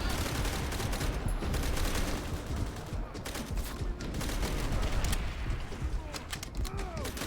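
Dense crackling gunfire in World at War fills the scene continuously, rapid overlapping shots and rattles with explosions mixed in, loud and unbroken throughout.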